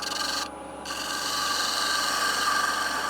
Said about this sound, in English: I've just sharpened my spindle gouge up.